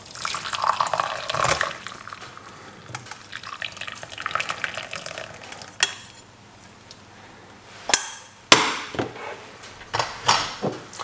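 Freshly brewed tea is poured off from a cooker into a vessel, coming in short splashing trickles and drips with a few sharp clinks in between, heard up close with no voices.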